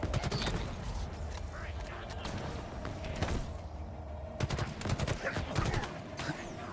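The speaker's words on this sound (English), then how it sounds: "There's a lot of shooting going on here." Gunfire in Halo Infinite rattles through a busy combat scene, with scattered bursts of shots and sharp cracks over a constant battle din, growing denser toward the end.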